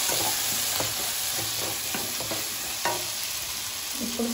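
Chicken coated in masala frying on low heat in a pan, a soft steady sizzle broken by scattered scraping stirs and a few brief clinks, with no talking.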